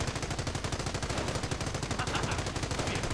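Rapid sniper and machine gun fire in a strategy video game, a fast continuous rattle of sharp reports over about three seconds, dense and steady at moderate loudness.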